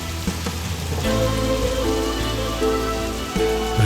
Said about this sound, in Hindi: बारिश की आवाज को सुनो